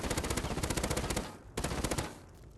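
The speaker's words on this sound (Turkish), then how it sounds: "Şimdi hızlıca bir 30 mermi daha boşaltıyorum." An automatic rifle fires rapid, evenly spaced shots in the video game Rust, one long loud burst, then a short pause and a second burst that trails off, with no talking.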